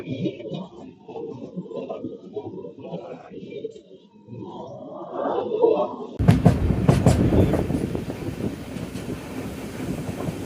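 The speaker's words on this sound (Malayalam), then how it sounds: "വേണാട് എക്സ്പ്രസ് ഇതങ്ങനെ പോയിക്കൊണ്ടിരിക്കുകയാണ്" The Venad Express passenger train pulls out of Ettumanoor station: a loud, broad rumble and clatter of wagons rolls in partway through, following a stretch of nearby speech and pigeons cooing at the station.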